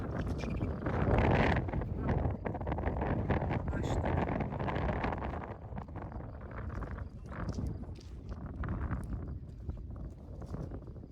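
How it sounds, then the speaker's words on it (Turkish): Loud wind rumbles and buffets against the microphone throughout on a highland plateau with wind turbines nearby in Sakarya, Turkey, with scattered rustling and faint movement sounds, easing slightly in the second half. "bu tarafa doğru gelince Rüzgar şiddetlenmeye başlıyor"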